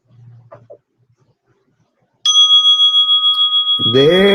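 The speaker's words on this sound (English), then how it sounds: "There's that sweet wake-up bell to wake us up from our thinking, our planning, our worrying." A meditation wake-up bell rings out clear and sustained after a quiet pause, its tone ringing on steadily until a voice begins speaking over it.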